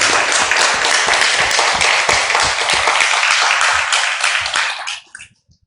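A church congregation gives a loud, dense burst of applause during a Sunday service marking the church's anniversary, close and continuous for about five seconds before cutting off abruptly.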